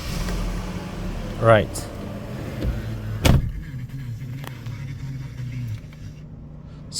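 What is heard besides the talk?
turning on ignition of Mercedes-Benz E-Class W210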